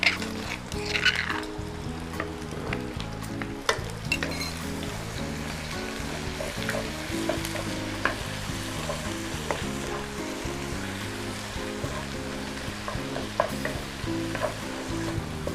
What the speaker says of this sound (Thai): สามชั้นเขาเริ่มเกียมแล้วนะเจ้า แล้วก็น้ำมันออกมานักแล้ว เราก็จะตักพริกแกงนะเจ้า ใส่ลงไป คั่วตัวเลย